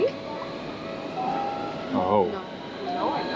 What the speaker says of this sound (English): We're taking a train.